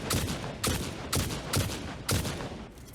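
Five sharp rifle shots ring out in a steady rhythm from a weapon in the factory-building game Satisfactory, each loud crack trailing into a short echo, with no talk.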